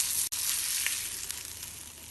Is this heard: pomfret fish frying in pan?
yes